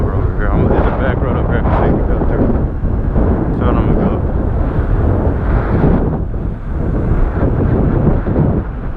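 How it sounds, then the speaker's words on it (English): Strong gusty wind roars and buffets the microphone during a ride on a modified Ecotric e-bike, a loud, continuous rumble that swells and dips, with someone speaking under it at times. "It's very fucking windy, which is dangerous."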